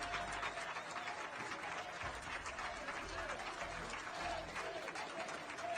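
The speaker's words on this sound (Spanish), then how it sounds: "mire la ovación con la que fue recibida en el Parlamento español al grito de presidente, presidente." Sustained ovation in the Spanish Parliament, with many hands applauding together and crowd voices rising within it, some sounding like chanting.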